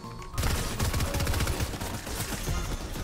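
Video game gunfire from a drive-by shooting bursts in as a dense, loud, continuous volley of rapid shots lasting several seconds.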